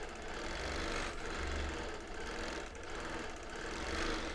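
A sewing machine runs steadily for free motion quilting on a wholecloth quilt, stitch regulator on and stitch length set at 10, giving a continuous close, even mechanical hum with slight pulsing.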